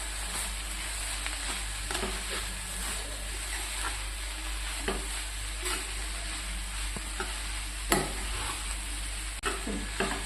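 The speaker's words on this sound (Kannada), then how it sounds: "ಈ ತೊಗರಿಬೇಳೆ ಹಾಕಿ ಮತ್ತೊಂದು 2 ನಿಮಿಷ ಫ್ರೈ ಮಾಡಿರಿ." Toor dal frying in hot oil for a waterless cabbage palya, a continuous close sizzle with intermittent scraping stirs and occasional sharper spoon knocks against the pan throughout.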